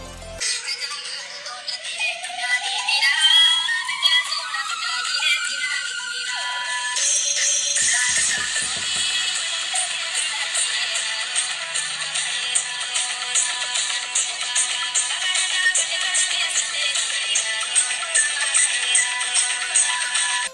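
A song plays through an iPhone 12's built-in speaker, a steady bright continuous music bed with a rising tone early on, no voices over it.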